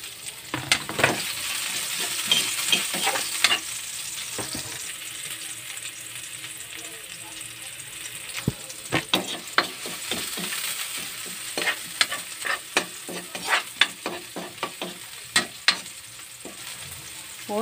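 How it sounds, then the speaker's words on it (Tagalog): Garlic and onion sautéing in a pan, a steady sizzle with repeated scraping and stirring clicks of a utensil against the pan, close and moderately loud. "Gisa na natin ang bawang saka sibuyas."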